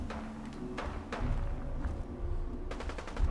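Distant, muffled gunfire in Fallout 4: a handful of scattered shots and a short cluster of rapid reports over a low rumbling ambient bed, fairly faint, with no speech.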